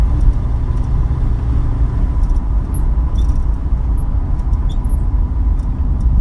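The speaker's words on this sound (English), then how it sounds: "there's no replacement for the sounds and the smells of an original muscle car" An original Plymouth Trans-Am Cuda muscle car engine rumbles at a steady, deep idle, loud and close, with no talking over it.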